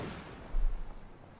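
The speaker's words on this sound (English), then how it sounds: "Pioneers there being pummeled by the twin 20mm Poston anti-aircraft guns" Distant low boom of twin 20mm Flak anti-aircraft guns firing in Company of Heroes 2, a single muffled thump burst rising and decaying within a second.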